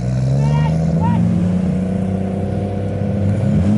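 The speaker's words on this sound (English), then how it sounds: "we got the 370Z. About to race the Skyline." Engines of a Nissan 370Z and a Nissan Skyline idle and rev steadily at the start line of a drag strip, a loud, continuous low rumble with voices and crowd chatter mixed in.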